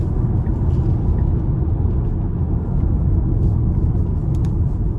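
A 2022 Tesla Model Y Long Range electric car pulling onto the interstate under throttle, heard as a steady, dense low road and wind rumble from inside the cabin with no engine note, no talking.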